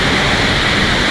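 Water rushes down a waterfall at Riverston, a loud, dense, continuous roar of broadband noise filling the short moment with no voices.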